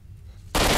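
AK rifle fire in the video game STALKER: Shadow of Chernobyl breaks in as a sudden loud burst after a quiet moment and continues to the end.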